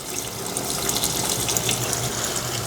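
Water gushes steadily from a tap, a continuous rushing splash as it fills the tub of a Samsung semi-automatic washing machine, fairly loud and close.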